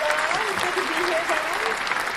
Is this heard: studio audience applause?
yes